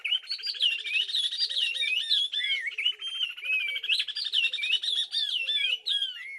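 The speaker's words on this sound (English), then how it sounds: "In this duet of oriole warblers from Senegal, the female keeps time with a rising series of staccato notes as the male whistles" A pair of oriole warblers from Senegal sing a close, lively duet: one keeps a rapid series of staccato notes while the other whistles along in liquid phrases, steady and clear with no talking.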